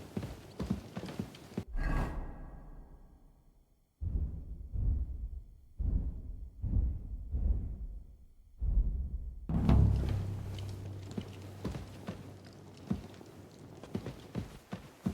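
Hooves clip-clop at a walking pace, rhythmic and fairly close, with a brief horse whinny and some rustling, in the game Kingdom Come: Deliverance II.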